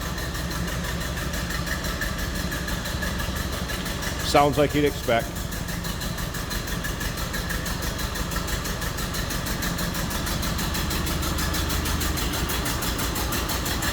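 A 1929 Ford Model A Roadster engine idles in a steady low rumble throughout, with a brief burst of clattering handling noise partway through and a voice speaking over it.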